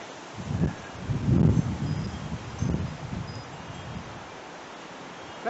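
Gusty wind rushes through leaves in rising and falling waves, a broad rustling roar that swells several times.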